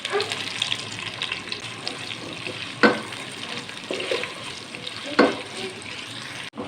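Two chopped onions go into half a cup of hot ghee for a tarka, giving a steady close-up sizzle and crackle with two sharp spikes as they hit the fat and get stirred.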